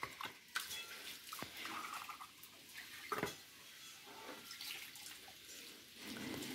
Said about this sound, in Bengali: মিক্সির জারটা মা ধুয়ে নিচ্ছে।